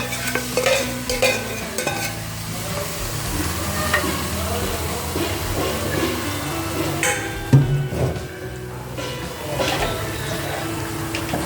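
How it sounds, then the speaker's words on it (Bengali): Marinated chicken tipped into frying onions in a pot for chicken biryani, giving a steady close sizzle with stirring scrapes and occasional clatters throughout. "এই পেঁয়াজের মধ্যে আমি মাংসটা ঢেলে দিচ্ছি"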